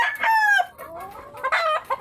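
A chicken, described by its owner as large-bodied, gives a couple of close, loud clucking squawks in quick succession, then a brief pause before more short calls.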